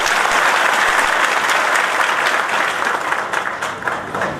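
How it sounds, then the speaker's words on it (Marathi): Loud, sustained clapping from a large crowd at a political rally in Otur, a dense wash of applause that stays strong before tapering slightly at the end. "याच्याबद्दल तरी जोरदार टाळ्या झाल्या"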